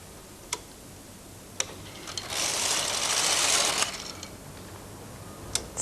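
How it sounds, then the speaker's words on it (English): A Brother knitting machine carriage is pushed across one row with the cord, giving a sustained mechanical whirring rush that swells and fades over about two seconds, framed by a few sharp clicks before and after. "Knit 1 row in the cord, carriage on the right,"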